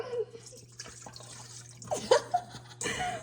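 Water poured into a bowl for a home cooking recipe, heard as brief splashes and drips near the end, quiet and close, with a low steady hum underneath.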